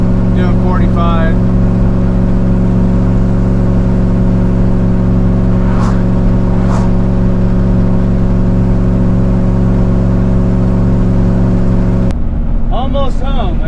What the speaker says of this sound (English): Going up a steep hill, so I'm running third, doing 45.